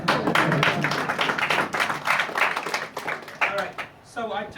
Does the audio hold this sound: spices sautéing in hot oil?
no